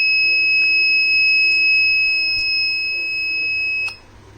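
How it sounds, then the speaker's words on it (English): A gas detection alarm buzzer shrills in a steady, piercing high tone triggered by lighter gas at a sensor, sounding loud and continuous for nearly four seconds before cutting off abruptly. "So now when the gas detect, the buzzer on and relay gets on."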